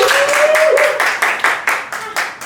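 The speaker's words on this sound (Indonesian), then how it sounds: "Tepuk tangan dulu dong terus." Clapping and applause from a small group at a company talk show, loud and close, with distinct claps growing sparser toward the end and a brief tone underneath at the start.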